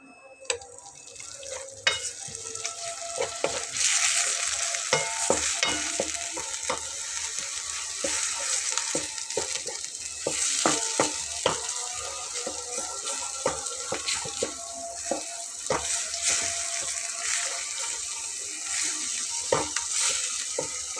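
A mashed boiled potato and red lentil mixture is sautéed in a pan, a steady sizzle under frequent sharp scraping and clinking strokes of a spoon, fairly loud and close, with no talking.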